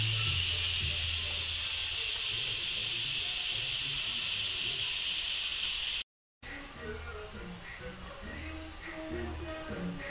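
A pressure cooker vents steam in a loud, steady hiss for about six seconds, then falls quiet after a brief dropout, leaving softer kitchen sounds and faint background voices.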